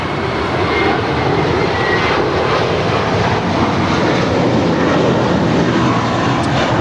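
A Spirit Airlines jet takes off from runway 25 right at LAX, its engines a loud, sustained roar that fills the air at a steady, powerful level.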